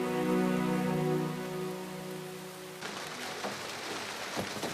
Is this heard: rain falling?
yes